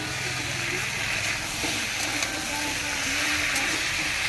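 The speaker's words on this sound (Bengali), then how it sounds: "আস্তে আস্তে নাড়াচাড়া করছি" Prawns with turmeric stirred in a frying pan give a steady close sizzle and hiss with faint scraping, continuous throughout.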